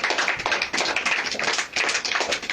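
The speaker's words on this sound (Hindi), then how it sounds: "ताली बजा सकते प्रभु की" A church congregation claps hands together in a quick, even, steady rhythm. The clapping is close and fairly loud, with no voices over it.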